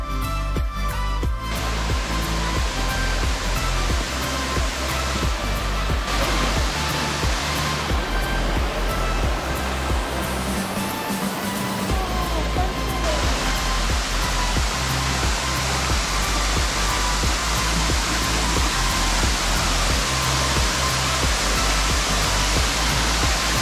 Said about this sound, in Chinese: 经过一座公厕后，即是上层瀑布